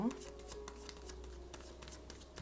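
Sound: tarot cards being shuffled and drawn

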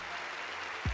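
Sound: crowd applause in Pokemon Axis video game

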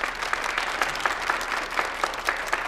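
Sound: applause at a banquet

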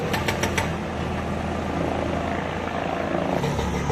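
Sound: Kedarnath helicopter service helicopter flying

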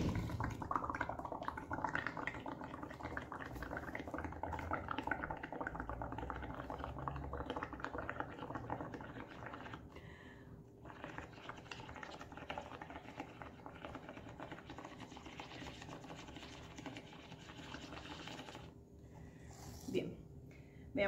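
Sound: blowing bubbles into lime green ceramic slip with detergent

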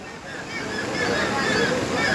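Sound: fast-flowing flooded river

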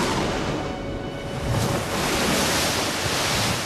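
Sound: strong wind and sea waves in a storm

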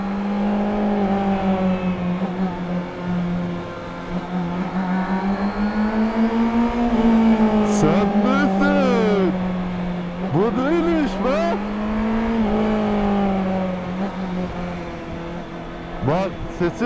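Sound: four-cylinder car engine revving

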